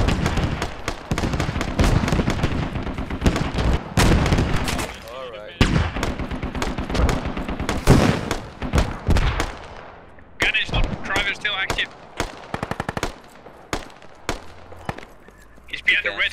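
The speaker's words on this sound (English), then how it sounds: "We're about to get shelled. Mortar's outbound." Incoming mortar shelling and bursts of gunfire in the military shooter game Squad, with repeated loud blasts and shots crowding the first half, then sparser reports further off while players talk over the combat.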